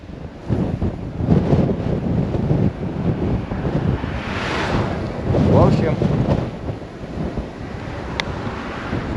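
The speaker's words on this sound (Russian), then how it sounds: "Ветер такой, порывы, аж чуть байк не опрокинулся." Strong wind gusts batter the microphone at a roadside in Turkey, a continuous loud roar that swells and fades over several seconds.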